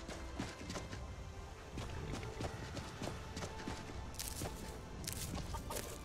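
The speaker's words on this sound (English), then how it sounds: "Ah, chickens." Chickens in the Skyrim video game cluck and squawk softly at a distance amid rustling, footsteps and other ambient game noise, with no talk.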